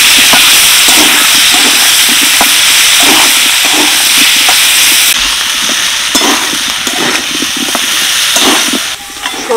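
Vegetables with Kashmiri chilli powder and ginger-garlic paste frying in a pan for a meat curry, a loud dense hissing sizzle that eases partway through, with repeated stirring scrapes and no speech.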